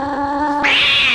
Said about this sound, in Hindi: वह सब देख वो बिल्ली वहां आकर जोर जोर से उसकी तरफ चिल्लाने लगी